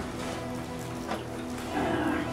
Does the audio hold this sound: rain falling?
yes